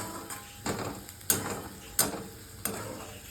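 Masala spiced with chili powder and asafoetida being stirred in a pan for dal khichdi, giving four or five spaced scraping strokes with a soft sizzle underneath, close and fairly quiet.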